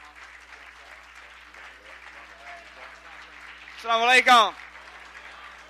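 An audience applauds to welcome a speaker at an event. A short, loud burst of clapping follows a quiet spoken greeting over a low room hum.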